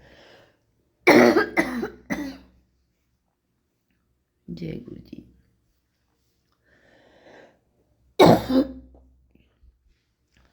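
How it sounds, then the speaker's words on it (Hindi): A man coughs and clears his throat in a few harsh, close bursts separated by pauses, with brief spoken words between them. "खांसी बहुत ज़्यादा है।"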